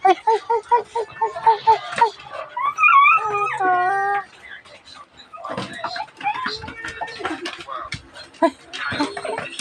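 Pet dogs whimpering and yipping in quick high bursts, close by, with someone speaking affectionately between and over the cries.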